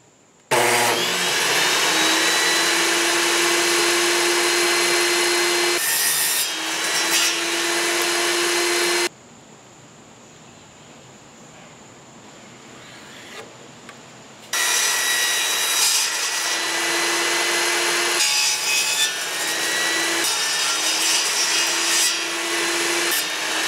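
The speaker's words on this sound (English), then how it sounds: "all I need to do is cut out my pieces and go ahead and sand all this down and put it all together" Power tool cutting and sanding wood pieces for a receiver case, loud and close with a steady whine in two long runs separated by a quiet pause of several seconds; no speech.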